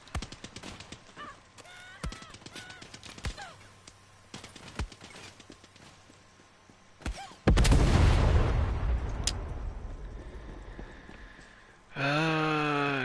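Tank cannon fire in Far Cry 6 lands as a huge booming blast partway through, followed by a long rumbling decay. Earlier come sharper scattered shots and clatter, and a rising mechanical whine cuts in near the end.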